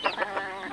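A labuyo rooster, a red junglefowl, clucks in its coop beside a hen, giving four or five short, close, rhythmic clucks with no talk over them.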